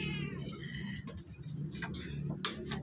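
A cat meows a few times indoors, brief high cries over a low background hum, with faint ticking.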